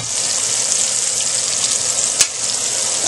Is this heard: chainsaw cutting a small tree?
no